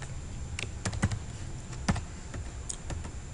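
Scattered keystrokes on a computer keyboard during a Windows Phone programming session, a few sharp clicks at irregular intervals over a steady background hiss, close but fairly quiet.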